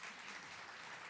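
An audience applauding panelists at a deaf and disability arts event, a dense, continuous patter of many hands, faint and distant, with no talking.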